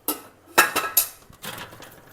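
Dishes, pots and utensils are washed at a water tank in a household kitchen, giving several sharp metallic clinks and clatters close by with short pauses between.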